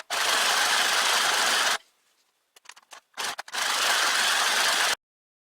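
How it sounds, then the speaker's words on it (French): A sewing machine stitches fleece pullover pieces together in two loud, close bursts of rapid running, split by a short pause broken by a few brief clicks and rattles. "je vais les coudre ensemble en laissant le col ouvert"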